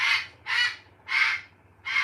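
A bird gives four harsh, crow-like caws in a steady rhythm about every half second, loud and close, with a faint low hum underneath and no voices.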